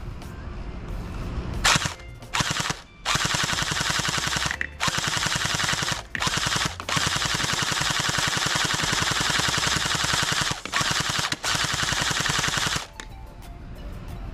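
UnlocX 4-in-1 gel blaster firing in full-auto bursts, a rapid buzzing rattle of shots broken by several short pauses, loud and close with no talk.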